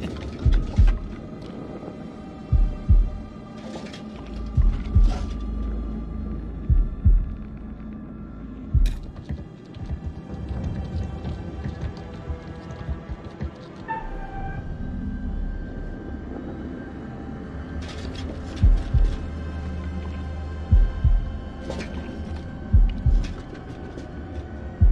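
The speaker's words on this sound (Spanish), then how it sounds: "Pulsa al ritmo de los latidos." Steady thumping heartbeat pulses in the horror video game The Dark Pictures: House of Ashes, repeating in loud regular pairs over a low droning hum with intermittent sharper effects, no voices.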